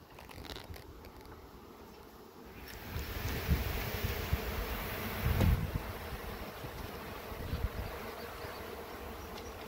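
Honey bees buzz around an open hive with comb being built for brood and honey, a dense, steady hum close by that swells louder midway, with faint crinkling and handling noises and no talk.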